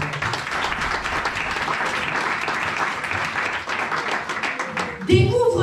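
A church congregation applauds in sustained, dense clapping that stays steady for several seconds, with voices rising over it near the end.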